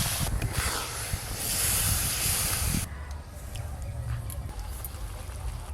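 Water pours into a pan of simmering curd curry masala for doi katla fish curry, a loud hissing sizzle that gradually subsides into a quieter bubbling simmer.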